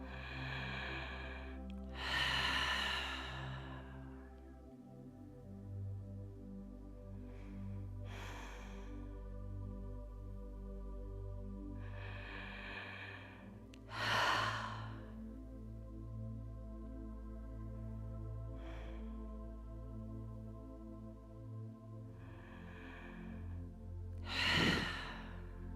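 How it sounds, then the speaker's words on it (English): Slow, deep breaths in and out during a live yoga session, each long exhale swelling and fading in a steady relaxed rhythm, close and soft over a low sustained drone with no speech. "Deep breaths in and out."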